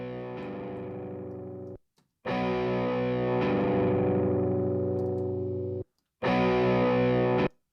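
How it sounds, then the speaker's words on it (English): Guitar playing recorded as raw material for a synth patch, heard as three sustained, effected and distorted chords with short silent gaps between them, loud and close with no voices. "I built this patch out of a guitar"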